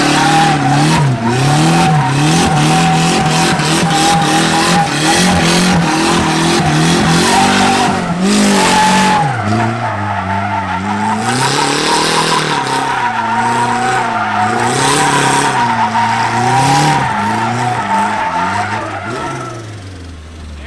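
A rear-wheel-drive Honda Civic fitted with a hydraulic handbrake spins donuts, its tires squealing and skidding loudly and continuously while the engine revs and wavers in pitch, staying close throughout before easing off at the end.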